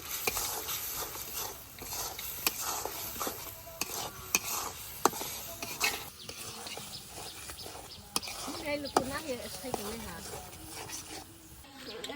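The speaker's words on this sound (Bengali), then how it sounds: "মশলাটারে খুব ভালোভাবে কষিয়ে নিই" Spice masala of turmeric, chili powder, salt and cumin powder being stir-fried, with repeated close scraping and stirring strokes over a low sizzle, with voices talking briefly in the background partway through.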